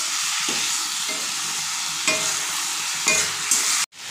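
Leafy greens with salt and turmeric are stirred in a frying pan, a steady sizzle broken by a few scraping strokes of the spoon, close and alone, ending in a sharp knock.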